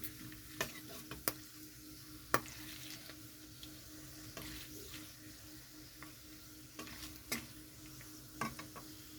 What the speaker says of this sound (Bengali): তেলটা ভালো মতন গরম হয়ে গেছে তো এখানে আমি সব ফোড়নগুলো দিয়ে দিচ্ছি